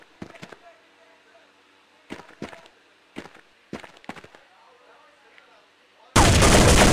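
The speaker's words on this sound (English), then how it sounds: "nice shooting" Gunfire in a competitive first-person shooter match, with several short bursts of shots spaced over a few seconds at moderate distance, ending in a loud sustained roar.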